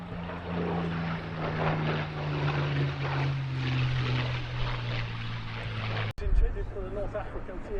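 A Mark 9 Spitfire-type warplane with a Merlin engine flies past at an airshow, giving a steady droning propeller hum under a public-address commentator's voice, then a sudden cut and a brief burst of noise.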